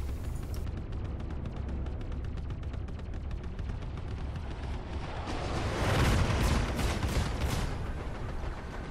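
Class 1 Bulldog repeater guns in Star Citizen, mounted on a ship's turrets, fire a fast, steady stream of rapid shots that swells louder partway through, with no talking.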